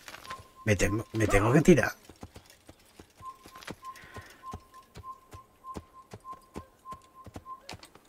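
Horse hooves in an Assassin's Creed video game: after someone briefly speaks, a steady, fairly quiet clip-clop of trotting hooves runs on with a thin, repeated whistling tone.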